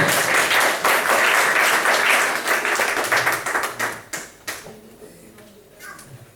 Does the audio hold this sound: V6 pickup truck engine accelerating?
no